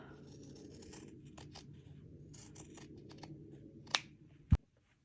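Scissors trim the curved edge of fabric for a medieval men's vest: quiet, close snipping and rustling, then two sharp, distinct clicks of the blades closing near the end. No speech.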